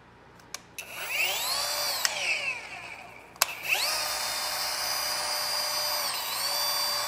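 A Rupes iBrid HLR15 five-inch cordless polisher runs at speed setting 3, with a high whining motor tone that sweeps up and down as it starts, stops, and then spins up again to a steady, moderately close whir.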